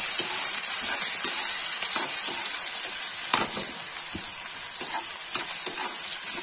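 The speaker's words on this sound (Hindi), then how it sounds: "लाल मिर्च, हल्दी, नमक ऐसे डालेंगे। इसको चलाएंगे।" Okra and potato curry sizzling steadily in a hot pan after red chili, turmeric and salt go in, with scraping stir strokes and soft clinks breaking through a constant loud fry hiss.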